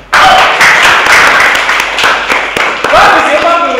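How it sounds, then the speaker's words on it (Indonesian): A class in a lesson on digital media content bursts into applause, many hands clapping loudly and steadily for several seconds, with voices mixed in and a few sharper claps near the end. "tepuk tangan."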